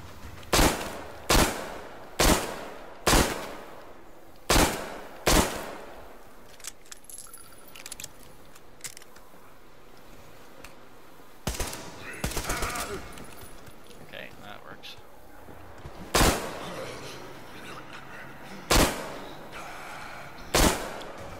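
Gunfire in the Metro video game, sounding as sharp, loud shots spaced a second or so apart in bursts, with a quieter stretch between them and a voice talking now and then.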